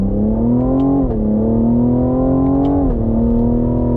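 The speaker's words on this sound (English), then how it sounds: "Manual shift mode from a dead stop. On throttle, here we go." A 2021 Cadillac CT5-V sport sedan launches from a dead stop in manual shift mode, its engine pulling in a loud, continuous rising drone with two distinct upshift dips before climbing again.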